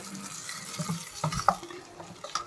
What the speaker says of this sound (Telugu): తాలింపు రెడీ అయింది చట్నీ పోసేసి కలిపేసుకుందాం ఒకసారి